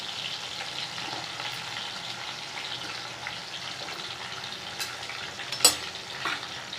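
Shallots and garlic fry in a pan for a Tamil sundakkai kuzhambu, making a steady close sizzle with a few sharp crackles and light stirring.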